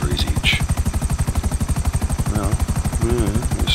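Helicopter rotors in the game GTA 5 Online make a steady, rapid beating thump that carries on throughout, loud and close, with brief game effects layered on top.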